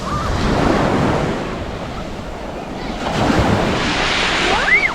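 Ocean waves and surf washing in as the tide rises along the coast near Karratha and the Burrup Peninsula, a steady loud wash with wind buffeting the microphone.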